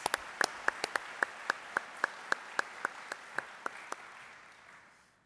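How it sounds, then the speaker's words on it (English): A round of applause for academic hosts and partners at an awards ceremony: about twenty sharp, evenly spaced claps, like a few people or a slow audience clap, fading out over the last second. "Let's give our academic hosts and partners a great round of applause"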